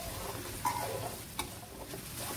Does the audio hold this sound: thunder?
no